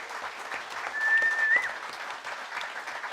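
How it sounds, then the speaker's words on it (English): Scattered applause from a crowd, moderately soft and steady, swelling briefly in the middle before settling. "deserves a very big round of applause"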